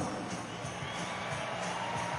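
Arizona Rattlers fans cheer and shout in an indoor arena, a dense continuous roar of crowd noise with scattered whoops.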